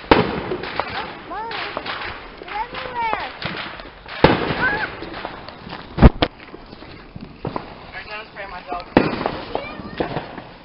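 Fireworks and firecrackers go off outdoors amid a walk, sharp bangs and crackles bursting irregularly, a few loud close blasts among fainter distant pops, with footsteps and people talking and shouting throughout.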